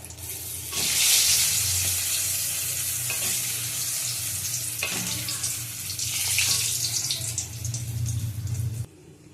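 Eggplant frying in hot oil makes a steady, close sizzle with occasional stirring clatters, staying loud throughout before cutting off abruptly.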